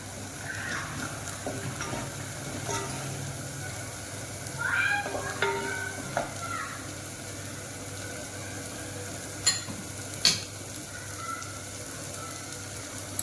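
Red chili powder and turmeric sauté in oil in a pan for a home-style mutton dish, giving a steady, low sizzle with a few soft scrapes and brief faint high tones over the hiss.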